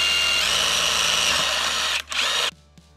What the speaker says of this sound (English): let's go ahead and get a few done with this small drill bit